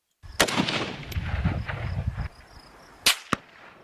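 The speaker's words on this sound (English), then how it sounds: "you'll hear the dry gun sound there, and then you'll hear the crack to bang afterwards" A rifle shot rings out with a sharp crack, followed by a rolling boom; a second sharper report comes a few seconds later.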